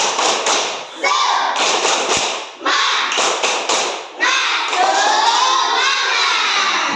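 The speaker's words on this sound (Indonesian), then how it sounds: "coba kita tepuk semangat dulu biar semangat kita belajarnya ya" A class of children claps in quick rhythmic bursts while chanting and shouting together, loud and close, ending in a sustained cheer.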